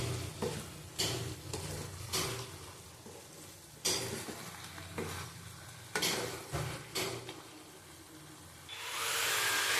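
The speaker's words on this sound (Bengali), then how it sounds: "হালকা করে নাড়িয়ে দিতে হবে।" Shrimp, potato and taro stolon curry stirred in a pan: a soft frying hiss broken by several sharp scrapes and clunks of the spoon against the pan, with a rising hiss at the end and no talking.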